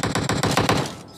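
Gunfire in the PUBG Mobile video game: a rapid automatic burst of about seven close, loud shots in even rhythm, ending abruptly.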